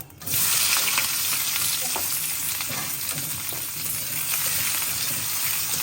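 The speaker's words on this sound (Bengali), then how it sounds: "তেল গরম হয়ে গিয়েছে, এখন জিরা ফোড়ন দেব।" Cumin seeds tempering in hot oil give a steady, loud, close sizzle that jumps in abruptly and crackles evenly throughout, with faint spoon scrapes and no talking.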